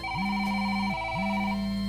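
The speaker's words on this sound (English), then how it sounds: "His phone starts buzzing, then ringing, then buzzing again." A phone buzzes twice in a row, each buzz a loud steady drone lasting close to a second, with a bright electronic ringtone tone running over it.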